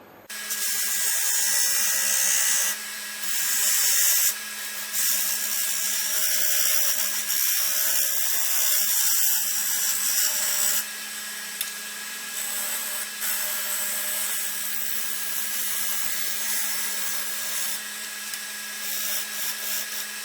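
A power tool cuts and sands wood for a bird feeder, grinding and buzzing steadily for a long stretch, with brief dips in its high, rasping whine.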